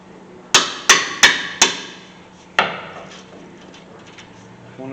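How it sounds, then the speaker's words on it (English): Hammer blows on the brake caliper of a 2011 Ford F-150 during a brake and rotor job: four sharp metallic strikes in quick succession, then a fifth after a pause, each ringing briefly, close and loud. "Use a hammer, not your hand."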